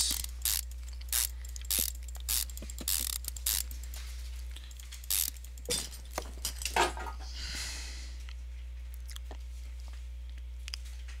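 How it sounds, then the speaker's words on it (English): An alternator being refitted in the Car Mechanic Simulator 2015 game gives a series of short mechanical ratchet clicks and clanks, spaced irregularly, over a low constant hum. "And we'll start throwing the alternator back on."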